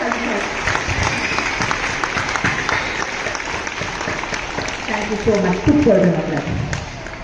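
An audience at a high school Republic Day program claps steadily in a dense, continuous patter, while a voice and a sustained tonal sound rise over the applause near the end.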